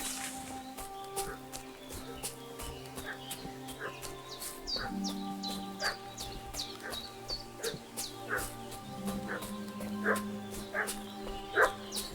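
Agitated dog barking in Kingdom Come: Deliverance II, a steady run of sharp woofs and yips spread across the scene over a game soundtrack, with a few bird calls mixed in.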